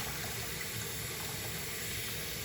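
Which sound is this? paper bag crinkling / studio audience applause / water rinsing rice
water rinsing rice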